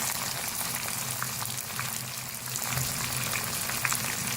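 Chopped tomato goes into a pan of fried garlic-ginger paste for an aloo palak curry, giving a dense, steady sizzle and crackle that stays close and even with no voices.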